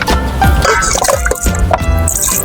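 Water is poured into a cooking pot at a campsite, making uneven splashing and gurgling bursts with a few drips, close and fairly loud.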